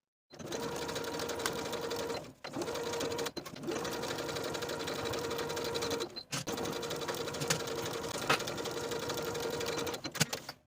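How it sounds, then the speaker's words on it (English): A sewing machine runs in steady, fast bursts of stitching shoulder and side seams of a vest, with brief pauses between runs, close and continuous. "go to your sewing machine and sew both of your shoulders and both of your side seams"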